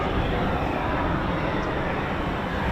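Eurofighter Typhoon FGR4 jets at RAF Coningsby make a steady, broad engine roar as they start up, loud and continuous throughout without any talking.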